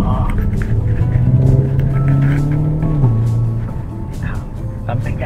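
A front-wheel-drive Hyundai N performance car driving, its engine droning steadily then dropping in pitch as it shifts, heard from inside the car under a person talking.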